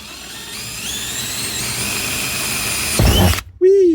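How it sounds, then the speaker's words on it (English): A power drill with a 9/32 bit bores holes while mounting an inclinometer on a Toyota Tercel 4WD, a steady close whine that surges and catches near the end, then stops abruptly. "let's go ahead and get the first couple holes drilled"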